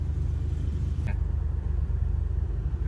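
Isuzu Trooper engine idling with a misfire, a close, low rumbling run with an uneven, stumbling pulse.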